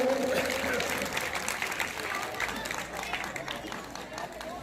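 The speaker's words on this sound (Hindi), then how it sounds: "तालियों से गुरुदेव का स्वागत करें।" An audience claps in welcome for a guru at a community felicitation gathering, a dense, steady patter of applause from a crowd that slowly eases off, with voices mixed underneath.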